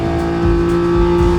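A Porsche GT4 RS Clubsport race car's engine drones loud and steady from inside the car on the Nürburgring, pulling hard with a strong tonal whine and rising slightly as it accelerates.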